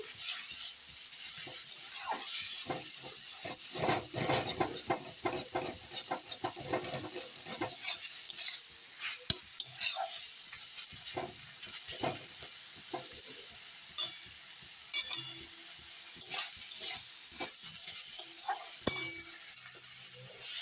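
Leafy greens being stirred in a pan as they finish cooking, a steady sizzle broken by repeated scraping and clinking strokes of a spoon against metal, close and without speech.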